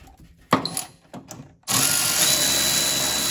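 A power drill spins up and runs steadily on a small 5mm bolt in a Mustang engine bay, preceded by a few clicks and handling knocks.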